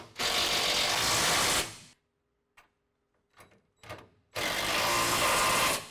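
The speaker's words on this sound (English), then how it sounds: "On the outside use a 5/8 ratchet" Two long bursts of fast, buzzing ratchet clicks from a 5/8 inch ratchet tightening a Dodge Ram track bar bolt, split by a quiet gap with a few light metallic taps.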